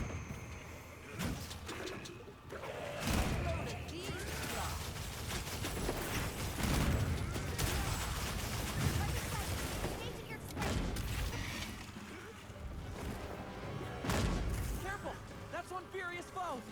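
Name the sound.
Gunlance combo attack in Monster Hunter Wilds video game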